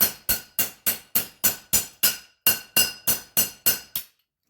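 Metal hammer strikes tapping out a wheel lock lug nut, about fifteen sharp ringing clinks in a steady rhythm, each decaying quickly, close and alone.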